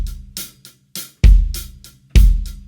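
A drum kit plays a simple, slow pop beat: deep, punchy kick drum thumps land under a steady pattern of crisp cymbal ticks, loud and close.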